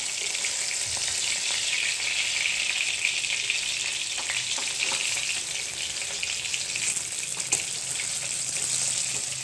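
Fish frying in a pan gives a continuous bright sizzle for several seconds, with faint clicks and small pops and a light scrape or two, without any voices.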